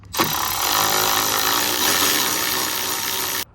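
A ratchet works loose 10 mm grille bolts on a 2015-2019 GMC Denali 2500 pickup, a close, dense continuous whirring rasp lasting about three seconds before cutting off.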